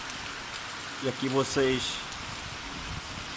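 Rain falls steadily over a hillside neighbourhood in the Serra da Ibiapaba, Ceará, a soft continuous hiss with someone briefly talking over it.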